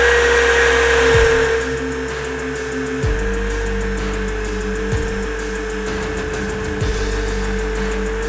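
Drill with a polishing attachment buffing a roe deer skull, a steady motor whine held close and continuous, with a louder start that eases into an even drone broken by a few brief dips in load.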